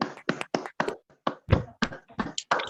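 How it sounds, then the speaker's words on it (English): Children applauding a prize winner at a month-end school prize ceremony, a rapid series of about ten distinct clapping bursts with brief gaps, fairly close and moderately loud, no talking. "Please give a huge round of applause to Miss Shigwan Ria"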